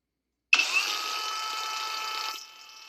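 A cheap cordless polisher rated up to 5500 RPM kicks on abruptly and holds a steady, loud motor whine, then eases to a slightly lower pitch near the end.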